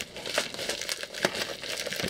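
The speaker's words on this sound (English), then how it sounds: "these are sometimes difficult to get open, these foam packages" Crisp crinkling and crackling of a foam package being opened by hand up close, irregular snaps and rustles in quick succession with no talking.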